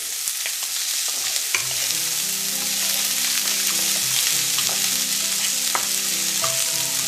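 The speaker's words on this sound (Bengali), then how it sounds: "রাফলি চপ করে রেখেছিলাম সেই পেঁয়াজটা দিয়ে দিলাম দিয়ে নেড়ে নেব" Roughly chopped onions fry over a low flame for a spicy Bengali egg curry, giving a steady close sizzle with occasional scraping stirs of the spoon against the pan and a faint hum beneath, no speech.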